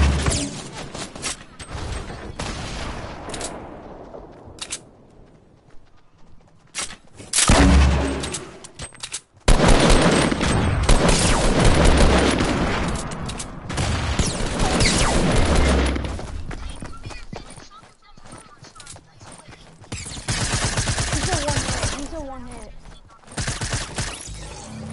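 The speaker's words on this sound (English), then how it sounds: "Grenade launcher!" Video game firefight with grenade launcher blasts, dense bursts of gunfire, booming explosions and rattling automatic fire continuing loudly for many seconds, with players talking excitedly over parts of it.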